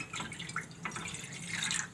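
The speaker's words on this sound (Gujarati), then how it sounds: "એમાં આપણે પાણી નાખશું થોડું" Water poured into a pot on a gas stove for boiling spinach, a steady close splashing and trickling stream lasting a couple of seconds with no talk.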